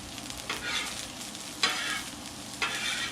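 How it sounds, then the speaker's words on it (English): Uncle Ben's rice is stirred into shrimp sizzling in oil on a Blackstone griddle, with a steady frying hiss broken by three sharp scraping strokes of a spatula about a second apart. "Mix that right into the shrimp."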